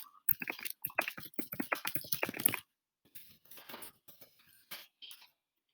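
Quick bursts of keystrokes on a computer keyboard, a dense run of close, crisp clicks followed by a pause and a few softer, sparser taps, faint overall.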